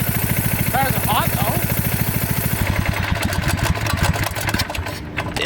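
A Predator 212 go-kart engine runs close by with a choke problem, holding a steady rapid pulse and then wavering and roughening as it revs, loud throughout while voices talk over it.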